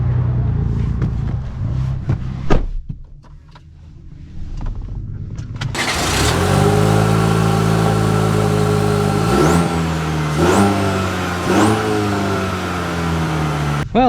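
A 2025 Chevy Silverado Custom pickup's engine revs up from a quieter start, then pulls hard with a steady, rising drone, broken by several quick dips and climbs as it shifts through gears.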